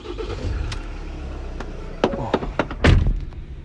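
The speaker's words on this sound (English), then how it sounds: "Start the vehicle." A 2019 Ford Transit 170 BHP mid-wheelbase workshop van, heard from inside the cab, gives a brief thunk and a cranking, catching engine start near the end over a low steady cabin hum, with no talk.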